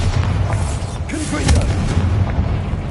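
Bombarda spell explosions in the Hogwarts Legacy video game, heavy booming blasts rumbling continuously under game sounds and voice.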